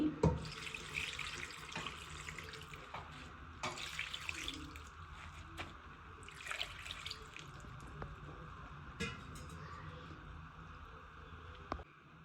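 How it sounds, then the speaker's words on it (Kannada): Water pours from a tap into a cooking pot in a steady splashing stream, with a few brief breaks and clinks, close by and fairly quiet. "ನೀರು ಹಾಕ್ತಾ ಇದ್ದೀನಿ"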